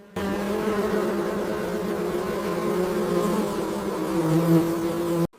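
Honey bees buzz inside their hives at a honey farm, a loud, steady, close drone with a clear humming pitch that shifts slightly near the end.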